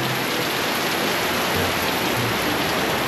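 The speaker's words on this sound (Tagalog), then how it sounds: "Grabe ang lakas po ng ulan dito." Heavy tropical rain pouring down outside a house in Mindanao, a loud, unbroken roar of water drumming on surfaces with no voices over it.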